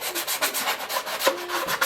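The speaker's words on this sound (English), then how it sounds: "you definitely want to get some sanding onto this" Rhythmic back-and-forth sanding strokes on a 787 Dreamliner test mold surface, close and even, about two strokes per quarter second, with no talking.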